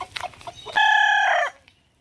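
Chickens let out soft clucks, then a single loud, close rooster crow holds for under a second before fading, with no other sound around it.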